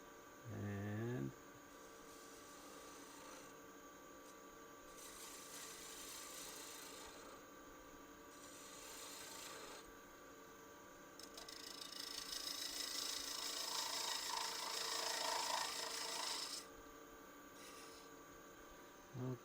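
A lathe turning a holly vessel while a tool rounds over the bottom, giving a steady rasping, rubbing cut that swells louder in the middle over a constant motor drone.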